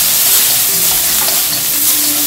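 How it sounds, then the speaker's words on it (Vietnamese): Ginger and minced garlic sizzle loudly in a very hot pan while being stir-fried, a steady, dense hiss that fills the whole stretch without talk. "Giờ mình sẽ xào."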